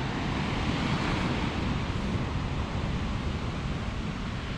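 Ocean waves breaking and foaming on an Icelandic shore in winter, a loud, continuous roar of surf mixed with wind buffeting the microphone, with no voices.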